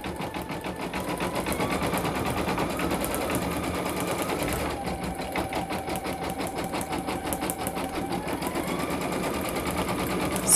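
An embroidery machine stitches a name onto a hooded towel, with a steady, fast, rhythmic mechanical chatter close up. The pace shifts slightly partway through, and no one talks.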